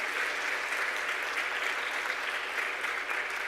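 A university campus dialogue audience gives a steady, even round of applause for the speakers on stage, a continuous wash of clapping heard alone.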